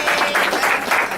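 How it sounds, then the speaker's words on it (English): Brief burst of audience applause at a community Q&A event, many hands clapping densely and evenly throughout. "Please give her a round of applause."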